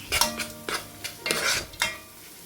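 Ginger garlic paste and onions fry in a pan while a utensil stirs, giving short scraping strokes with a soft sizzle between them, fairly close and quiet.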